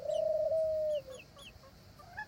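A rooster in a backyard flock lets out one long, loud crow up close, then trails off into softer clucks and chirps from the other birds, with a turtle dove in the same yard.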